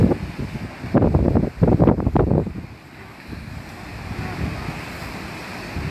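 Surf rolling and crashing against rocks in several loud bursts early on, then settling into a steady wash of water with wind rumbling across the microphone, at Polignano a Mare.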